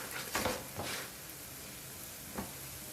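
Layered flatbread frying in a covered pan, turned over partway through cooking, gives a soft, steady sizzle with a few brief louder crackles near the start and one later, no voices.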